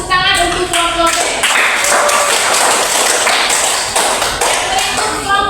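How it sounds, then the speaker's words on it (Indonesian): A classroom group gives a round of applause for a student presentation team, with steady, dense clapping that stays loud throughout and a few voices mixed in. "Tepuk tangan untuk kelompok B"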